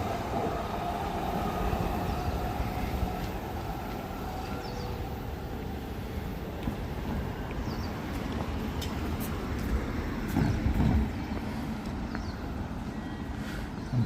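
A train rumbles steadily through Kagurazaka station in Tokyo, a constant low roar with rattling wheels on rails that swells slightly near the end, nearby and continuous on an evening walk.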